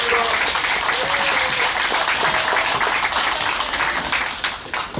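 An audience gives loud, dense applause to welcome a guest at a Korean traditional-clothing fashion show, steady clapping that tapers off near the end, with a voice faintly underneath.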